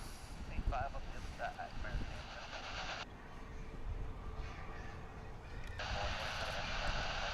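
Departing jet airliner at DFW International Airport, a distant broad roar of aircraft engines that holds steady and swells slightly, with faint higher whining tones shifting over the rumble.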